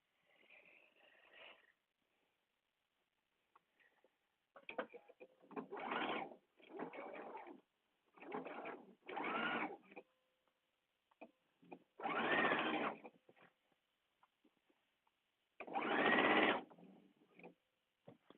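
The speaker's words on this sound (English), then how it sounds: "And then sew that side seam." Short bursts of a sewing machine sew the side seam of a day date dress, with about seven separate runs of stitching broken by quiet pauses, close and moderately loud.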